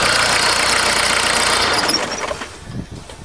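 A mechanically injected diesel caravan engine runs loud and rough, then is switched off, its clatter dying away over a couple of seconds into a few faint knocks.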